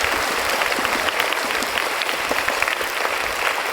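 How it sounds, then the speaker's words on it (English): An audience at a school investiture ceremony claps for the newly installed Student Council members, producing dense, sustained applause from many hands that holds steady from start to finish with no talking. "Please give a round of applause to the new Student Council members."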